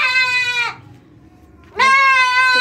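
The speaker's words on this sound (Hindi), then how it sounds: "कितने जोर से चीखते हैं बच्चे" Young goat kids bleat loudly during vaccination, two long wavering cries close to the microphone separated by a brief pause.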